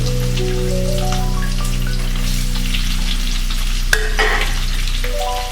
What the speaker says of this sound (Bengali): পেঁয়াজটা একটু ভালো করে ভেজে নেব লাল করে।